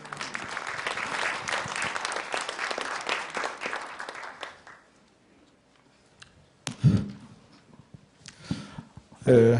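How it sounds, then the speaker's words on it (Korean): A conference audience at a tenth-anniversary event applauds to welcome a professor, a dense round of clapping that fades out after about five seconds, followed by quiet with a few knocks and a voice. "여러분 큰 박수로 맞이해 주시기 바랍니다."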